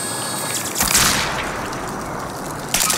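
A frag grenade blast in Call of Duty Warzone on Caldera, one loud booming explosion followed by a broad rushing roar and a sharp burst near the end.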